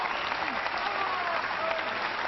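The crowd at a world nine-ball pool championship bursts into sustained applause, a dense, even wash of clapping with no let-up.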